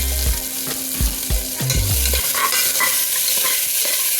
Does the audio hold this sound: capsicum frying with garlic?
yes